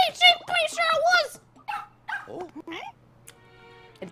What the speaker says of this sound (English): A dog? What the?